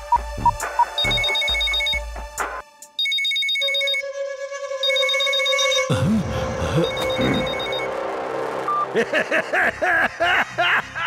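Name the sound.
telephone ringing during a call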